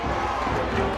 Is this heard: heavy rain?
no